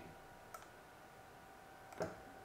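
A computer mouse clicks to delete a file from a USB flash drive: two soft, crisp clicks about a second and a half apart in an otherwise quiet room.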